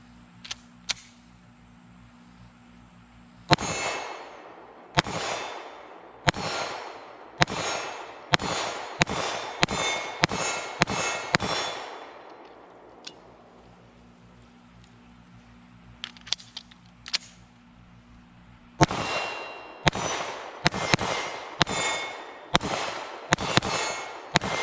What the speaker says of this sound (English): let's take our first shots with the 365 AXG Legion. See where she's hitting for us.